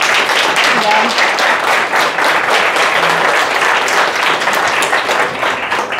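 Audience applause at a talk on process management, loud dense clapping from a crowd that holds steady the whole time.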